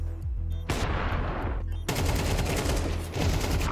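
Gunfire in a Counter-Strike match at a BLAST Premier tournament: a sharp shot followed by dense, sustained bursts of rapid rifle fire, loud and close, with brief gaps between volleys.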